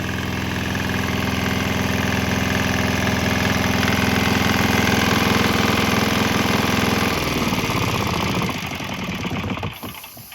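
Loud, cheap Chinese diesel engine running on straight canola oil idles with a rough, steady knocking rumble, then shifts and tapers near the end; no voices.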